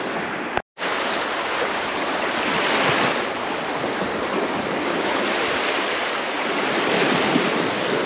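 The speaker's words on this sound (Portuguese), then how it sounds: "Ela está com algumas ondas, que nem vocês estão vendo aí, ó." Waves lap on a lagoon in a steady, close wash of surf with wind rumbling across the microphone, continuous throughout with a brief dropout near the start.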